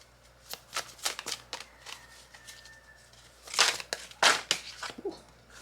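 Tarot-style clarifying cards are shuffled by hand close up, with bursts of riffling and soft flicking slaps, two louder bursts near the end.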